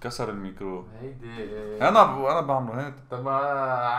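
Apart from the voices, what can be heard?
No everyday noise stands out behind the speech.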